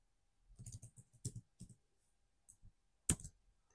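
Clicky keystrokes on a computer keyboard while text is typed into a search box, several short bursts of taps followed by a louder final key press, close and alone with no talk.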